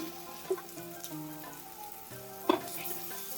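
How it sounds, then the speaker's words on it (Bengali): Eggplant and egg fry quietly in a pan of oil, with a low steady sizzle and a couple of small pops or clinks over the faint hiss. "ডিম আর বেগুনটা কিছুক্ষণ সময় ভেজে নেব"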